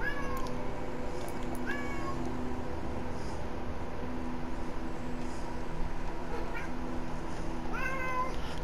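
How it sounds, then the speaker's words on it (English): A cat meows several times in short, rising calls spread across a steady background hiss, fairly close and loud against the constant noise. "Yes, hi Kitty."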